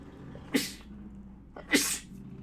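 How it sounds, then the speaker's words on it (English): Two sneezes, each a sharp breathy burst, about a second apart, close and fairly loud against a quiet room. "let me sneeze."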